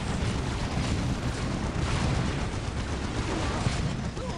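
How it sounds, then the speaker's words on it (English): Dawn of War battlefield artillery fire merges into a dense, continuous roar of booms, blasts and gunfire that stays loud and unbroken throughout. "Double defilers packing the battlefield with all sorts of artillery"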